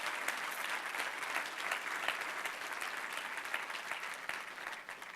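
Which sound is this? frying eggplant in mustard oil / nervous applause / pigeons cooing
nervous applause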